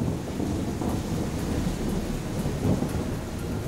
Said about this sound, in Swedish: Det var häftig åska i natt.